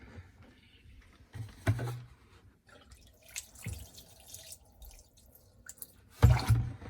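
Vinegar from a one-gallon jug is poured into a dishwasher in short splashing bursts, close and moderately loud, with quiet gaps between pours.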